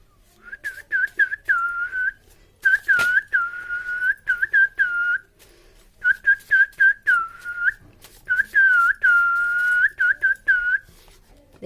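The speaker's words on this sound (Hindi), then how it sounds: "देखे हमको सीटी बजाना भी आता है भाई" A person whistles a bright, clear tune in short repeated phrases with brief pauses between them, close and fairly loud, with no talking.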